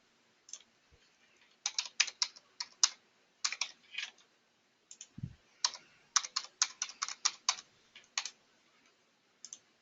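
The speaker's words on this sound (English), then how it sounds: "And once again, we type in his information." Close, clear clicking of a computer keyboard as information is entered, typed in quick irregular bursts of keystrokes with short pauses between them and a soft low thump or two.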